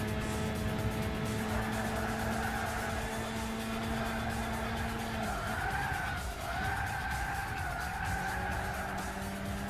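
Tires skid and squeal as a race car is handbrake-drifted around a corner in Gran Turismo 6 on PS3, a long continuous screech over a droning engine whose pitch dips and recovers near the end.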